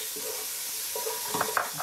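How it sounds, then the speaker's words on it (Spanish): Chopped onion hitting a hot pan for mondongo soup, giving a soft steady sizzle with a few light stirring scrapes near the end, close by and without talk. "Lo dejamos que se caliente y vamos a agregar la cebolla."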